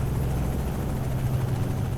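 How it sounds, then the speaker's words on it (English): A steady, low helicopter drone with a throbbing rotor hum, constant and fairly loud throughout, flying overhead in the video game American Truck Simulator. "I can hear a helicopter overhead."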